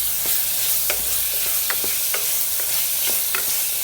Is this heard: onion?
yes